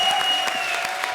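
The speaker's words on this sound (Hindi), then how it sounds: "हो जाए एक बार जोरदार तालियां" An audience at a comedy show claps and cheers in a short, dense burst of applause, with a steady tone ringing underneath.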